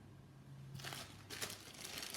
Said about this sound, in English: And then you take your plastic bag.